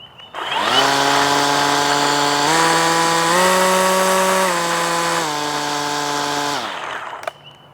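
An Echo eForce DPAS-2600 56V battery string trimmer motor whines steadily, its pitch stepping up and then back down through its speed settings, before cutting off abruptly.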